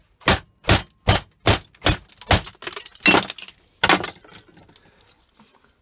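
A potted igniter capacitor is cut open with a tool, giving a run of about eight sharp, evenly spaced cracking snaps followed by looser scraping and crunching bursts, close and loud.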